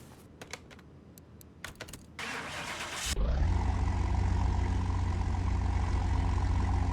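Virtual car engine in Car Mechanic Simulator 2021 cranks and catches at about three seconds, then settles into a steady, loud idle drone. Keyboard-like clicks and thumps come before it.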